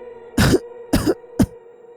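Three close, harsh coughs come in quick succession, each a short explosive burst, with the last the briefest, set against a faint steady hum and no speech.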